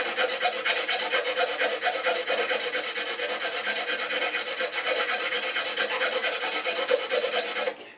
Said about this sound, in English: I'm filing in a bit of a curve that usually helps match the fingerboard